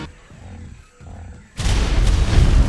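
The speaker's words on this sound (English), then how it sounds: "I heard the most obese explosion ever" A huge explosion goes off in the ARK survival game near cliff edges, a sudden loud broadband blast that follows a quieter stretch of ambience and then a sustained roaring rumble that continues to the end.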